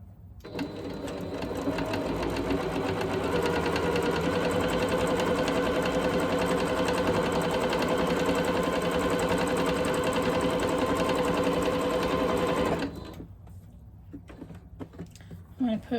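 A sewing machine stitches a quilted Christmas stocking, running in one loud, steady buzzing hum for about twelve seconds before stopping, followed by quieter handling noises.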